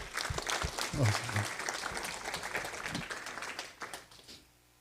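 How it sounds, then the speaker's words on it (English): Crowd applause at a school district board meeting, steady clapping with a burst of voices early on, fading out near the end. "So round of applause for that."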